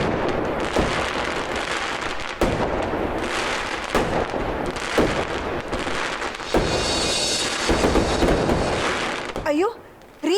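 Diwali firecrackers keep bursting outdoors in rapid, overlapping cracks and booms, with voices talking beneath the din and a brief lull near the end.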